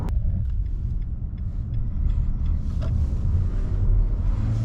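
2022 Nissan Frontier pickup truck merging onto a highway: a loud, steady low engine and road rumble close inside the cab, with faint clicks and no talking.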